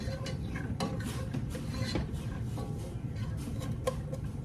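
Chili ingredients stirred in a pot make a continuous scraping and clinking of utensil against cookware, with scattered sharper taps and a faint sizzle underneath; nobody speaks.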